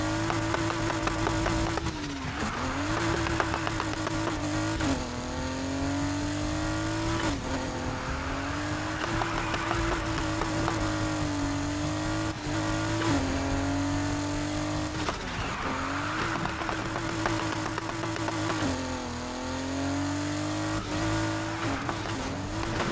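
A Porsche 911 Carrera RS 2.7 is driven through sharp corners. The engine note rises and falls again and again as it revs, with tire squeal in the turns, and it stays loud and sustained with no talking.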